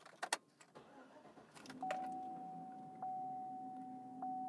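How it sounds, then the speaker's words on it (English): Engine of a 2013 GMC Sierra SL crew cab pickup starting after a few cabin clicks, a brief crank catching into a steady idle hum with a soft electronic chime tone held through it, recorded inside the cab. "Let's go ahead and start the truck."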